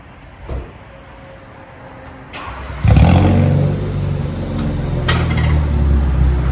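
A 2016 Kia Soul with a 1.6L engine and straight-pipe exhaust fires up partway through after quiet moments and a few knocks, then settles into a loud, raw, rumbling idle close by.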